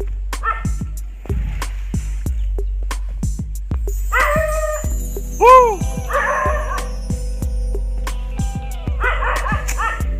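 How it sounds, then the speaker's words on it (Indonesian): A dog barks repeatedly in sharp, regular bursts nearby, with some higher yips and whimpers mixed in between the barks. "Ada suara gonggongan anjing."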